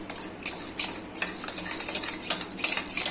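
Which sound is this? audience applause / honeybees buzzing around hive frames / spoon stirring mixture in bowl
spoon stirring mixture in bowl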